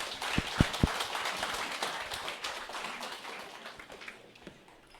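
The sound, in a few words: audience applause welcoming a speaker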